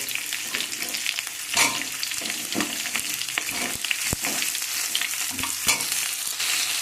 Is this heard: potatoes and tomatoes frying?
yes